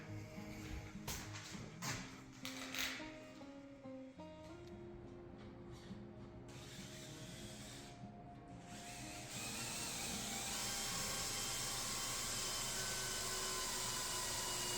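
A drill bores holes for barrel nuts in a wooden workbench using a jig. A close, steady whirring drone runs through the clip and grows louder and continuous toward the end, with clattering and tapping before it.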